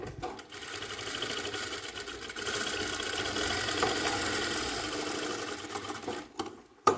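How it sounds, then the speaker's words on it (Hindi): A sewing machine stitches a jacket in one long continuous run of fast, even whirring, close and steady, ending with a few clicks and knocks. "अब इस सिलाई को करो कंटिन्यू।"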